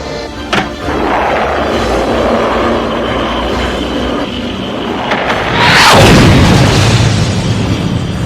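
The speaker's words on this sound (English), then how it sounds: "Have a taste of this! Eat missiles, Fang Features!" Missile explosions in a G.I. Joe: A Real American Hero cartoon battle: a sustained rumbling roar builds, then a loud booming blast hits near the end, all without talk.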